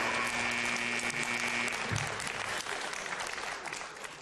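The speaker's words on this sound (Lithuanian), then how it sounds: "plojimai, šitie aplodismentai verti daugiau negu pralošti 300 litų" Studio audience on a Lithuanian TV comedy show bursts into dense, sustained applause that stays loud and even throughout, then fades slightly toward the end.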